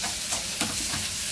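Onions sizzling in a pan for chinthakai pachadi, a Telugu chutney, with a steady frying hiss and occasional stirring scrapes, close and fairly loud with no talk.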